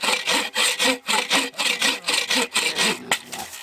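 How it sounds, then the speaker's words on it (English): A handsaw cuts through a small hardwood log outdoors in the woods, with steady, loud back-and-forth rasping strokes at a quick even rhythm, close by and with no talking. "All right, we cut a small log."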